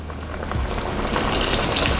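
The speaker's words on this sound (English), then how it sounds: "Y'all hear that? That sizzle, sizzle, sizzle." Turkey chops sizzle steadily in a hot frying pan, a dense, loud crackle of spattering fat that swells slightly and holds without pause.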